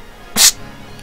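A can of Mitsuya Cider Melon, a carbonated soda flavored with Shizuoka muskmelon extract, cracks open with a single sharp hiss of escaping gas that lasts about a quarter second. The room is otherwise quiet.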